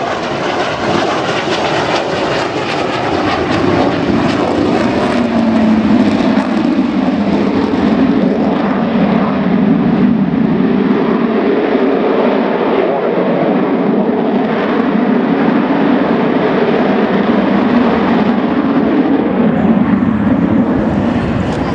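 Loud, continuous engine roar of an aircraft passing close by at an air show at Dunsfold, a broad rushing drone that holds steady throughout without any voices.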